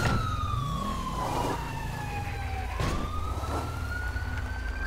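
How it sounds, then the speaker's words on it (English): A police car siren in the video game GTA 5 wails loudly with sweeping rising and falling tones over steady engine rumble, alone without talk. "we're gonna go ahead and mute our siren because it is awful loud"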